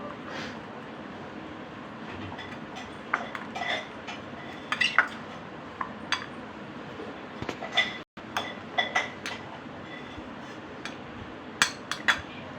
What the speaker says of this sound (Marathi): आता हे सर्व मिश्रण आपण काय करायचं हलवून घेतो